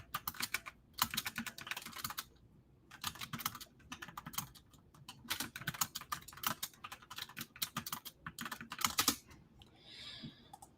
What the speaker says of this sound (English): I'll keep typing while you go make dinner.